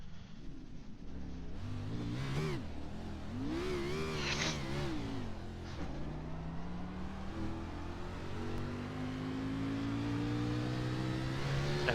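Race cars in the iRacing sim at Talladega or Rockingham pick up speed on the backstretch, several engines revving and shifting with rising, wavering tones, then one car's whine climbs steadily and smoothly.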